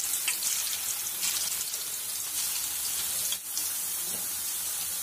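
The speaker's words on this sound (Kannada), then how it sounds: "ಕಟ್ ಮಾಡಿರೋ ಆಲೂಗಡ್ಡೆಯನ್ನು ಒಂದೊಂದಾಗಿ ಕಾದಿರೋ ಎಣ್ಣೆಯಲ್ಲಿ ಹಾಕೊಳ್ಳೋಣ" Sliced potatoes for chips dropped into hot oil on a medium gas flame, producing a steady, bright hiss of frying that keeps going throughout, with a faint knock partway through.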